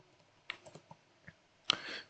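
Keystrokes on a computer keyboard while code is written, a handful of scattered clicks with pauses between, then a short denser burst of typing near the end, close and fairly quiet with no talk.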